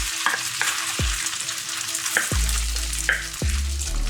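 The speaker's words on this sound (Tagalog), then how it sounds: "Ato na ning gisalon ang atong rice." Steamed rice being stir-fried in hot oil Cebu style, loud close sizzling broken by repeated low thumps and scrapes of a spatula tossing the rice.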